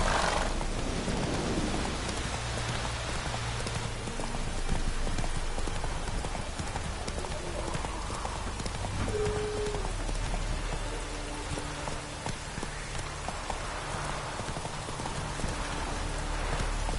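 Roach the horse clip-clops steadily in Witcher 3, rhythmic hoofbeats close by under a soft wash of rain, with a brief voice.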